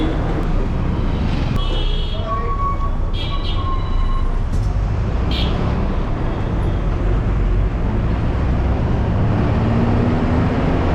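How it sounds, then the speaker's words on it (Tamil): A bus slows to a stop at the Vandalur Zoo bus stop near Chennai. Loud onboard engine rumble and road noise run throughout, with faint squeaks and clatters. "அடுத்ததாக பஸ் இப்போ நிற்கிறது வண்டலூர் ஜூ பஸ் ஸ்டாப்புங்க"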